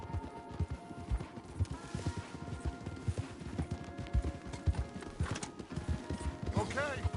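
Rhythmic clip-clop of horse hooves at a walking pace in Red Dead Redemption 2, fairly close and continuous, with light mechanical clinks and a brief whinny near the end.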